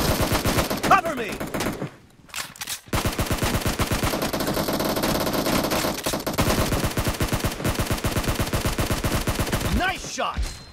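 Rapid automatic gunfire in PUBG Mobile during a death match, dense bursts of shots running almost continuously with brief gaps, loud and close, with a few tonal game effects and no talking.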